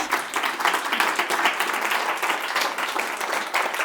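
Audience applause rising after a card trick at a magic show, a dense, steady wash of many hands clapping close and loud for nearly four seconds, with no talk over it.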